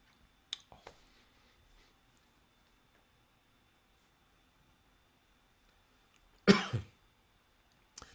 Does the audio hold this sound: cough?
yes